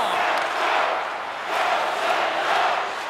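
A roaring hockey arena crowd in the NHL 24 video game, a steady dense wash of cheering voices that swells and dips in gentle waves throughout.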